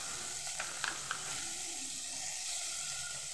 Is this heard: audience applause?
no